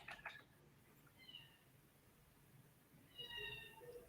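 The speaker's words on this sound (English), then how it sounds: "I hear a cat, I think." A cat meows twice in the background, faint and distant, separated by a few seconds of quiet hiss.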